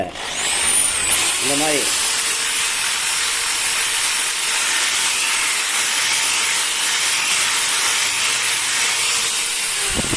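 An emery sheet rubs against the rear-wheel brake drum of a motorbike, a loud continuous abrasive hiss held close throughout, with a short squeak near the start.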